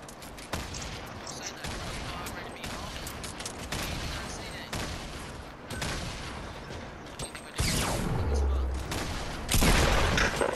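Rapid gunfire bursts and explosive booms from grenade launchers in a Fortnite match, dense and continuous with a louder blast near the end, while players talk over the action.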